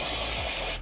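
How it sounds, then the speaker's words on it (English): Aerosol spray can hissing steadily onto the rear subframe of a 2002 Mini Cooper S Cabrio during a subframe replacement, one continuous close burst that cuts off abruptly. "spray this side, spray this side, spray the connection area, and then put it in."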